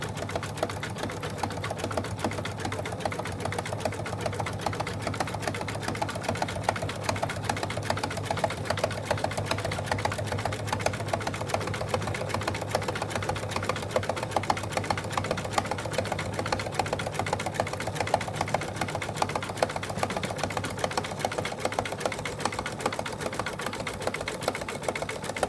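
An embroidery machine stitches an in-the-hoop wallet with black thread, a steady, rapid mechanical chatter with a constant motor hum running evenly and loudly for the whole stretch, with no talking.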